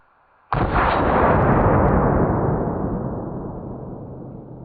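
AK rifle fired into a stack of weighted blankets: one sharp, loud gunshot after a brief quiet moment, its boom trailing off into a long echoing decay over several seconds.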